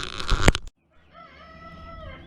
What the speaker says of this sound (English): Take a look at the chickens here.